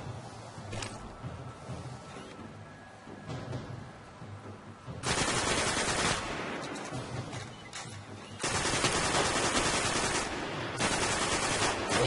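Gunfire from the video game Destiny on Xbox One, with rapid automatic bursts that start abruptly and cut off in loud blocks between quieter game ambience.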